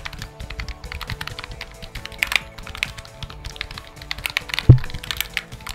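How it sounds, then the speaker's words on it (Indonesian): Keys being pressed on a Moofii retro wireless keypad, a quick run of light, dry clicks and taps with one sharper click near the end, close by over faint background hum. "Clicking dia ni bukanlah seperti korang menggunakan mechanical keyboard pun"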